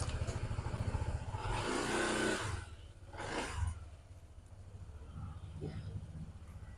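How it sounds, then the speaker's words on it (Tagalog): A motorcycle engine runs at a steady, close idle, with a couple of louder surges partway through and some clattering handling noise over it. "Start muna ng motor."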